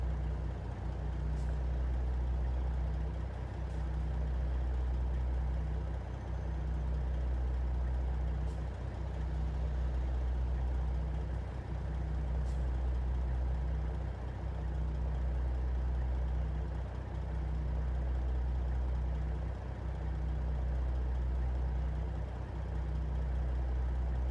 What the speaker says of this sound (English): That Detroit sound good idling too